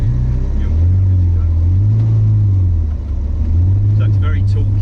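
A Zenvo 1200hp hypercar with a twin-supercharged V8 pulls away slowly, a deep, loud engine drone rising and falling in pitch in gentle waves, heard close from inside with faint talk beneath.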